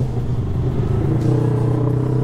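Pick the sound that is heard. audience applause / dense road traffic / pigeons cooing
dense road traffic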